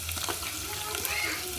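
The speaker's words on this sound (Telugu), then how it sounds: "అల్లం వెల్లిపాయ పేస్టు వేగింది" Ginger garlic paste fries in a pan with a steady close sizzle and crackle, loud and continuous over a short moment.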